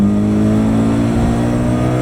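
A Mazda RX-8 fitted with a swapped Honda K24 four-cylinder engine holds a loud, steady high-rpm rev, a dense buzzing drone with strong harmonics close to the microphone.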